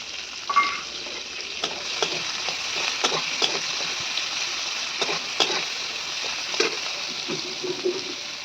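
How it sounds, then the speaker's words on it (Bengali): Chopped onions sizzling in hot oil in a pan, a steady crackling hiss with intermittent stirring knocks from a spatula, close and moderately loud. "তেলের মধ্যে দিয়ে দেবো পেঁয়াজ কুচি"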